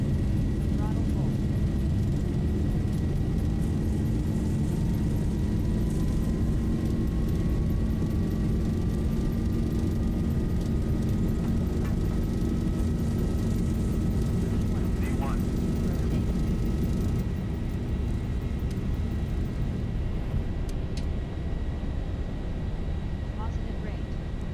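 Boeing 737 jet engines spool to full takeoff throttle on runway 04 at London Stansted in a flight simulator, a loud, steady roar with a slowly rising whine that runs throughout, with faint voices in the background.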